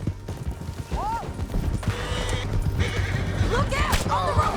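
A horse in the video game Red Dead Redemption 2 whinnies twice between running hooves and action noise in a chase down a canyon, with voices shouting over the din.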